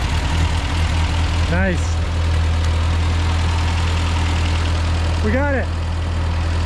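Engine of a 1950 Ford 8N tractor catches and settles into a loud, steady low idle close by, while voices speak briefly over the running motor.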